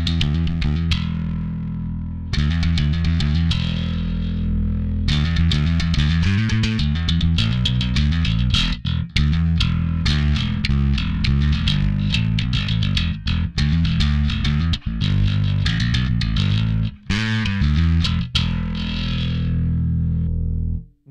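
Bass guitar played through a Darkglass distortion pedal driven hard, thick gritty low notes in a busy riff with sharp plucked attacks, loud and close throughout, with brief gaps between phrases.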